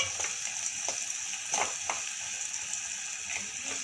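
Raw peanuts sizzling in a pan of frying spices for a Kannada kalu palya, a steady soft crackle broken by a few scraping stirs, with no voices.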